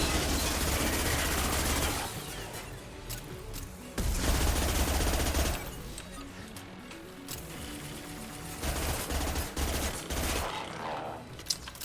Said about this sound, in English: I'm getting used to the SMG now.